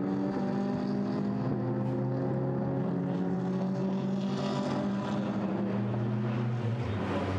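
GT race cars lap Monza in the GT Sport video game, with several engines droning loudly and continuously, their pitches shifting together.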